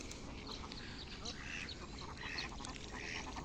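A flock of domestic ducks by a riverbank, their quacks repeating in short nasal bursts against steady outdoor background noise, with a voice briefly audible at times.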